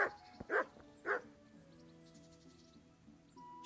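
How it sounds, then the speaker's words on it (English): A dog in the video game Kingdom Come: Deliverance gives three short, sharp barks in quick succession, then quiets to a faint game ambience. "that's the dog"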